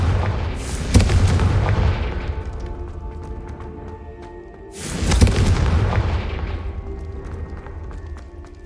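Two Confringo blasting-spell explosions go off in Hogwarts Legacy. Each is a loud, close boom with a long rumbling decay, spaced about four seconds apart.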